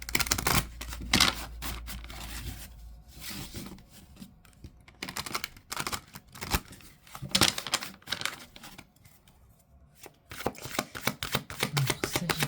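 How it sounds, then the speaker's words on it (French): An angel tarot deck is shuffled in continuous bursts of papery flutter and slapping, close and fairly loud, rising and falling over several seconds with no voice. "on va faire le tirage avec le tarot des anges"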